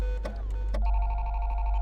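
A telephone rings in a Five Nights at Freddy's story scene, a steady electronic ring tone sounding clearly and continuously after a couple of brief sharp clicks.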